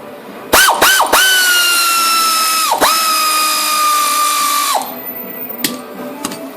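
A power drill tightening bolts on the rear suspension of a 1976 Holden gives a few short revving bursts, then a sustained high whine and another long run, loud and close, ending in quieter clicks.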